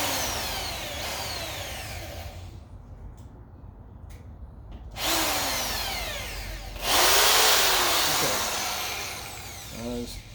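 A power drill drives a screw into 4x4 wood for a homemade squat rack, whining in rising and falling bursts, pausing, then running hard and loud before a final short spin.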